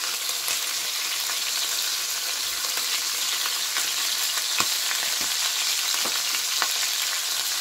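Beef browning for boeuf bourguignon sizzles and fries steadily in a hot pan, a dense continuous hiss with occasional sharper pops and spatters, close and fairly loud, with no talking.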